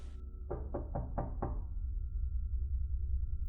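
Five quick, firm knocks on a door sound in an even rhythm, close and clear, followed by a steady low hum.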